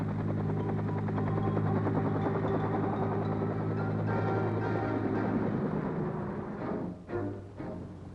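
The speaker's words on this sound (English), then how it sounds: "dust-off is the affectionate code name for the medical evacuation helicopters" A Vietnam War medical evacuation (dust-off) helicopter's rotor thumps and engine drone fill the air, loud and steady, then waver and fade slightly toward the end.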